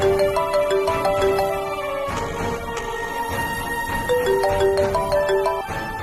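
A mobile phone plays a melodic ringtone of repeating electronic note phrases that rise and fall and keep going for several seconds, clear and fairly loud, with no talking.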